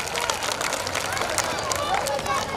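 A crowd at a Delhi kirtan gathering claps loudly and continuously for donors, a dense rattle of hands mixed with background babble and voices.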